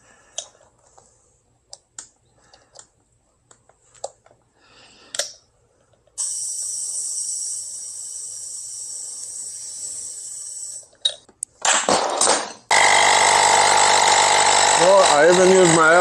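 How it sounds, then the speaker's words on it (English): An air compressor runs loud and steady while inflating an electric scooter tire during a Nami Burn-E tire change, starting after scattered clicks, stopping briefly, then resuming with a sustained hiss and motor drone to the end. "And now we're going to see if we can inflate the tire or not. And you need an air compressor,"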